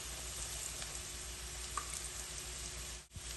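Onions fry in a pan for poha upma, giving a constant, gentle sizzle with a faint pop or two, heard alone at low volume.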